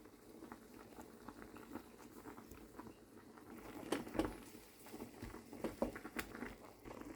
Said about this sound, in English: when I'm boiling my shaki, I normally add seasoning